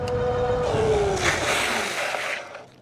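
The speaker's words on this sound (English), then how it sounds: "I pushed the brakes as hard as I could" A G-Force ZM e-bike brakes hard and skids to a stop, a whining motor tone sliding downward under a broad scraping hiss that fades out at the end, close and fairly loud.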